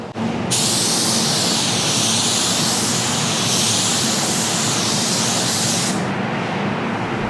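Spray gun laying a light coat of metallic base coat in a paint booth: a loud, steady hissing air-and-paint spray runs continuously for about five and a half seconds over a constant booth fan drone.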